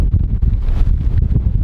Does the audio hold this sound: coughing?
no